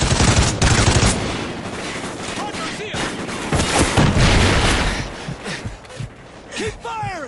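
Rapid gunfire and explosions from the video game Call of Duty: Ghosts, a loud, dense battlefield barrage of repeated shots and booms with shouted voices mixed in throughout.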